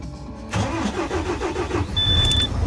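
A truck's diesel engine cranks for about a second after a frosty night, then catches and settles into a rough, rumbling idle; a faint high whine joins near the end.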